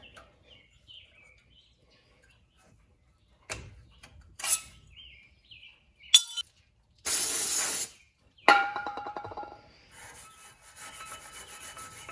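Brake cleaner sprayed onto the front brake parts of a 1995 Ford F150 during a pad replacement, one loud steady hiss lasting about a second, surrounded by scattered clicks and handling noises and a quieter hiss near the end.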